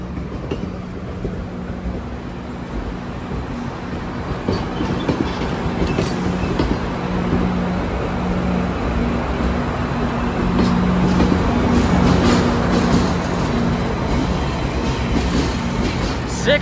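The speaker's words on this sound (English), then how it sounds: "Normally, trains would be 10 to 12 cars" A six-car GO commuter train rumbles steadily in Toronto Union Station, a low hum and faint clattering, sustained and fairly loud throughout, with occasional squeals and bumps.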